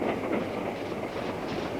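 A train runs on the Somerset and Dorset railway, giving a steady, continuous rolling rumble with faint rhythmic wheel clatter, fairly close and uninterrupted throughout.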